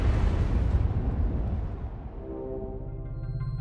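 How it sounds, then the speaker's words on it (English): Explosions in the video game Astral Chain boom loudly at the start, with dense low rumble that fades into a steadier game soundscape and a tonal hum by the end. "explosions!"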